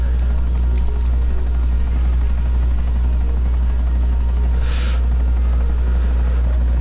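Helicopter rotor in GTA 5 Online, a loud, continuous, deep thudding whir that fills the whole clip, with a brief higher whine partway through.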